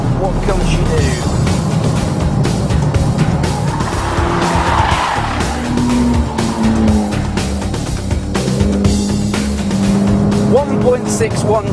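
Mitsubishi Evo X FQ-400 on sticky Toyo tyres launching off the line in a drag race against a Nissan GT-R, engine roaring loud and close with tyre squeal throughout, a voice talking over it.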